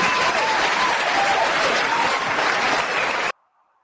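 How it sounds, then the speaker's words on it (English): Canned studio applause from a sound-effect button, a dense burst of crowd clapping played loud and steady for about three seconds before cutting off abruptly into silence. "Do you have your finger on your little applause button?"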